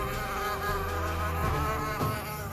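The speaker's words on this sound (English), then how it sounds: "Those are mosquitoes." Mosquitoes buzz in a hotel bathroom, a continuous high, wavering whine with shifting pitch, close and steady throughout with no voices.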